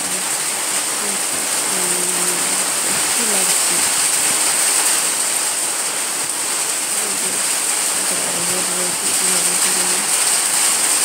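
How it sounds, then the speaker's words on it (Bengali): Heavy rain from a sudden storm with strong wind pours steadily and loudly the whole time, while a voice speaks briefly underneath in a couple of short stretches. "জোরে বাতাস উঠে এলো, আর বৃষ্টি এলো"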